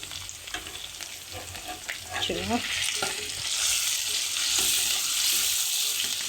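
Ginger paste frying in a pan for a bottle gourd curry, a steady close sizzle that swells louder partway through, with a few scraping stirs near the start and no voices.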